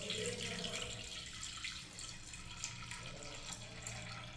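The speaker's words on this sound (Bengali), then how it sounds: "তো আমি এবার দুধটাকে বন্ধুরা দেখুন ঢেলে দিচ্ছি এবারে" Milk, 500 grams, poured steadily into a cooking pot, a continuous soft splashing pour that stays fairly even throughout, faint and close.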